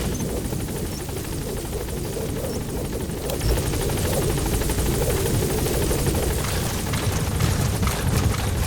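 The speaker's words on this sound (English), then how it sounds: "Support helicopter has arrived." A support helicopter's steady rotor drone and engine roar hold continuously, loud and close, with a slight swell partway through, in Metal Gear Solid V: The Phantom Pain.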